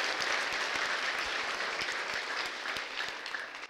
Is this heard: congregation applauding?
yes